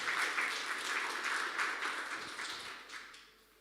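An audience applauds volunteers at a winter school event, a dense steady clapping that fades toward the end, with no talk over it.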